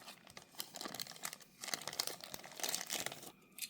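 Paper wrapping from a Tomica Premium McLaren Senna box crinkles and crumples up close in quick, irregular rustling bursts, with no talking.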